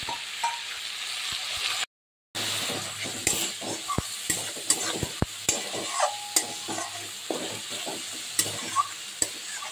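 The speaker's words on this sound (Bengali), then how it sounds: "পাঁচ ফোড়নটা যখন ভাজা ভাজা হয়ে গেছে, এই যে পেঁয়াজ বেটে রেখেছিলাম, পেঁয়াজ বাটাটা দিয়ে দিলাম।" Onion paste hitting hot oil seasoned with panch phoron, a steady close sizzle and fry broken by a brief gap, with scraping stirs and light clinks of a spatula against the pan.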